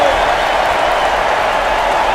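A basketball video game crowd roars after a dunk, a steady, dense wall of cheering and applause that holds throughout.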